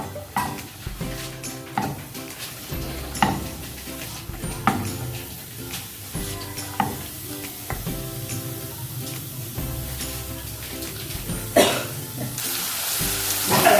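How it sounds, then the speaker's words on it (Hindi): Onions sizzle in hot oil while a spoon stirs and clinks against the pan, with steady frying hiss and repeated scraping knocks throughout, for a chicken dish. "ऑयल डाला है, अब इसमें प्याज डालेंगे, थोड़ा सा भूनेंगे इसे।"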